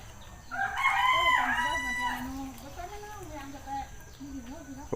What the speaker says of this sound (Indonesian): ada ternak ayam.